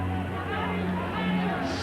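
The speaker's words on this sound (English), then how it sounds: "super crowd here. They're jam-packed into Redfern." Crowd hubbub from a packed Redfern ground during a 1986 rugby league match, a steady broad murmur of many voices at moderate distance with no single voice standing out.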